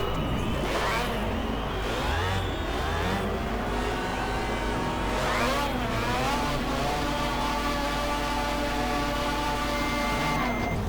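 Several period racing cars from the GT Legends video game, including a Mini, a Mark II Jaguar and a Lancia Fulvia, rev and accelerate off the start line together, with engines rising and falling steadily and loud throughout.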